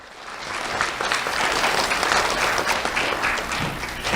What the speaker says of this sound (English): Let's have a round of applause for the school board and Dr.